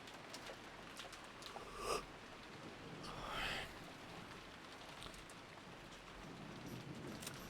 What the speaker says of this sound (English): we get like ASMR rain for the break